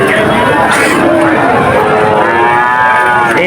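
Young calves mooing at the Satmile cattle market in Jessore, several drawn-out calls overlapping near and farther off amid a busy crowd babble, with someone speaking throughout.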